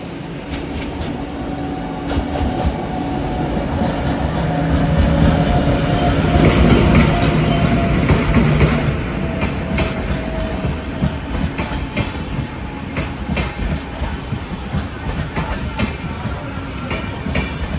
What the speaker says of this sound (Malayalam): നമ്മുടെ Thiruvananthapuram north Mumbai LTT super fast ഉണ്ട്. അപ്പോൾ അത് ഇവിടെ കുന്താപുരയിൽ അപ്പുറത്തെ പ്ലാറ്റ്ഫോമിൽ വരും